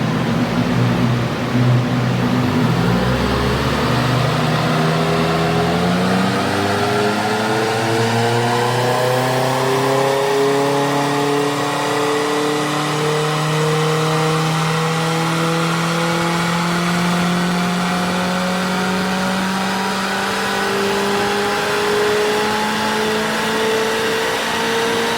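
Audi S3 with a 1.8t 20v engine and a big Garrett turbo runs on a dyno, loud and steady, its engine note climbing smoothly in pitch through one long pull for about twenty-five seconds with no talk.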